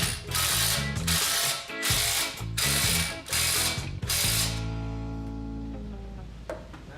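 A ratchet tightens a fastener on a car's exhaust, giving a run of loud rapid clicking bursts with brief pauses, then the clicking stops and a low ringing hum fades out.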